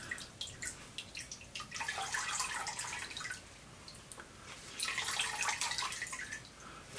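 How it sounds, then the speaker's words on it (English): Liquid wax dripping from a squeezed wax-dipped teddy bear, faint irregular patters and trickles in two bursts with a quiet lull between, no talking. "We go ahead and let him drip dry as much as we can."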